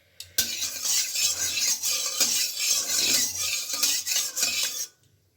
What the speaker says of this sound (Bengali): কড়াইতে দিয়ে দিচ্ছি সামান্য পরিমাণের একটু সর্ষের তেল